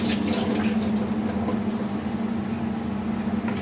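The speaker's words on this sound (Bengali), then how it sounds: "তো এজন্য আমি প্রথমে মাছগুলোকে খুব ভালোভাবে ধুয়ে নিচ্ছি।" Catfish being washed under running tap water in a kitchen sink, a continuous close splashing stream with a steady hum beneath.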